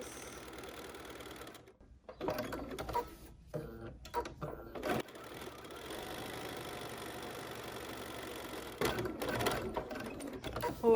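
Sewing machine stitching a quilted pumpkin trivet, steady whirring needle runs with short pauses and restarts, close and fairly loud, no voices.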